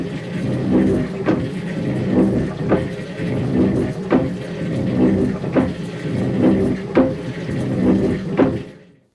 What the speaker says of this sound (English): That was the sound of the water pump at Mickey Hart's ranch in Novato